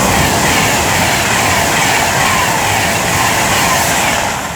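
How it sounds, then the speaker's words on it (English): An Avanti West Coast Class 390 Pendolino, unit 390-049, passes through Lichfield Trent Valley station in a loud, continuous rushing roar that stays steady and fades slightly at the end, with no voices. "here we have 390-049 about to pass by for Avanti West Coast, working 1 Hotel 28 from London Euston to Manchester Piccadilly"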